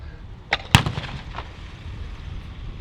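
A T-Gewehr, the single-shot bolt-action anti-tank rifle of the First World War, fires a 13.2mm blank at a battle display: one sharp, loud report with a brief lesser crack just before it, then open-air rumble.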